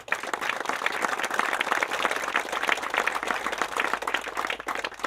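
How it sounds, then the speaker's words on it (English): Audience applause at the groundbreaking ceremony for an airport air traffic control tower, with continuous, evenly dense outdoor clapping from a modest crowd, moderately loud throughout. "Now, I'd like to give him a little applause."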